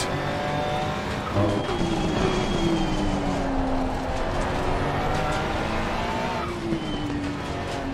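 Ferrari 296 race car engine in Assetto Corsa Competizione, a steady loud drone with whining tones that dip and climb as gears change, continuous throughout without talk.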